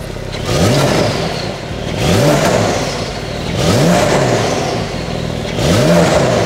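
A Porsche 911 GTS fitted with an IPE exhaust, valve closed, revs up four times in a steady rhythm, each throttle blip rising in pitch and falling back to a deep idle, loud and close.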